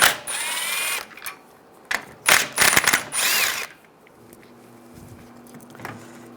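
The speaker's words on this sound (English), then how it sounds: "Take these two bolts out, use a 12mm socket." A ratchet with a 12 mm socket spins out bolts during radiator replacement on a 2011-2018 Ram 1500, with loud close bursts of fast ratcheting clicks followed by a quieter stretch of faint workshop hum.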